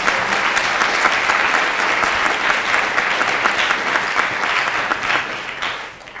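Audience applause at a national debate championship final in France, loud dense clapping from a packed hall that carries on steadily for several seconds before fading slightly at the end.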